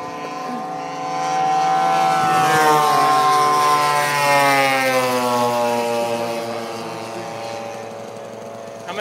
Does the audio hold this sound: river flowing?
no